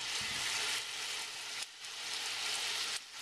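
Thick steaks fry in a pan on high heat, a dense close sizzle with brief breaks as the meat is stirred or moved, no talking.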